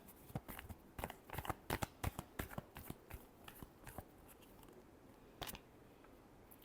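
A deck of tarot cards is shuffled close by in rapid, uneven bursts of crisp riffling and slapping clicks, then pauses with a few final taps.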